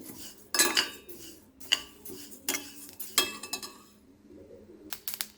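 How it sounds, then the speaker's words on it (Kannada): Flax seeds roasting in a dry pan give a run of sharp crackles and pops in separate bursts, close and fairly clear, with brief quiet gaps between clusters and no talking. "ನೋಡಿ ಈಗ ಹೇಗೆ ಚಟಪಟ ಅಂತ ಇದೆ"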